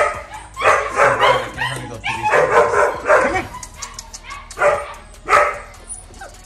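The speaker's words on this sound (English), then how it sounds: "So, this is a dog that is not like the rest." A dog gives a series of short barks, yips and whimpers, loud and close, in irregular bursts over several seconds with no talking.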